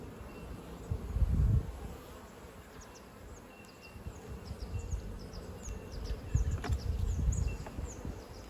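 Honeybees buzz steadily around an open, naturally built beehive in an Australian apiary, a dense continuous hum with close passes swelling louder now and then, no talk.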